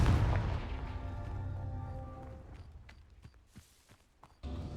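A Confringo blasting spell explodes in Hogwarts Legacy with a heavy booming burst that decays, followed by sparse sharp clicks and small impacts, then another loud hit at the end.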